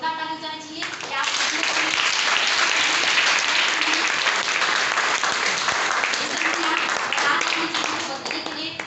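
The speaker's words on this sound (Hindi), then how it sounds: "सबसे पहले आप सभी के लिए एक जोरदार ताली जाना चाहिए" An audience at a motivational event breaks into loud, sustained applause, dense clapping from many hands that swells and holds for several seconds, with a voice speaking briefly before it starts and faintly under it.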